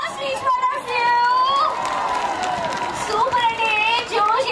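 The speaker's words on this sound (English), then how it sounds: "Can we give a round of applause, please, for the few?" Crowd cheering and shouting with clapping at the Taneira Saree Run in Hyderabad, excited voices and yells swelling together close by, with talking mixed in.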